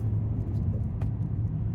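A car engine climbs a hill on a mountain road near Greer, Arizona, heard from inside as a steady low rumble with road noise, brief and unchanging.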